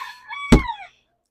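A chicken in a barn gives one loud, harmonic crowing call lasting under a second, with a sharp thump partway through, then silence.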